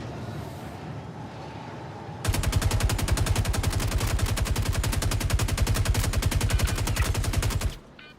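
Sustained automatic gunfire in the video game Star Citizen, a loud, close, evenly spaced rapid stream of shots lasting about five and a half seconds before cutting off abruptly, following a quieter stretch of background ambience.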